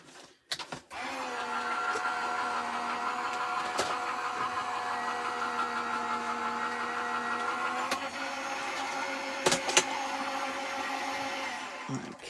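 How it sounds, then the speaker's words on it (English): Die cutting machine feeding an embossing folder with card through its rollers, a steady motorized hum lasting about eleven seconds with a few sharp clicks and knocks along the way. "I'm going to pass that through my die cutting machine"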